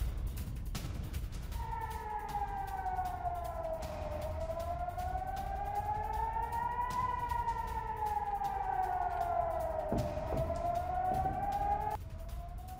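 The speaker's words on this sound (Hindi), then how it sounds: "सीज़फायर टूटने के बाद इजराइल में सायरन, हमले का सायरन बजना शुरू हो चुका है।" Air raid warning siren wailing in Israel after a ceasefire broke, a loud sustained tone slowly rising and falling for over ten seconds, heard alone without speech.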